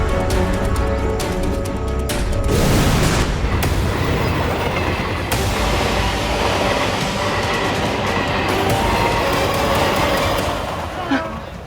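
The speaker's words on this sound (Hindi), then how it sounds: "तब तक मैं जाकर रेलगाड़ी को रोकने की कोशिश करता हूँ" A train rumbles in a dense, heavy roar with clattering and rushing noise that swells and holds steady, mixed with dramatic sound effects and some voices.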